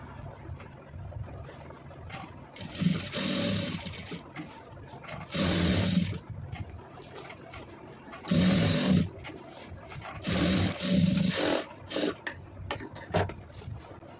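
Sewing machine stitching a simple blouse design, running in four or five bursts of a few seconds each, separated by short pauses.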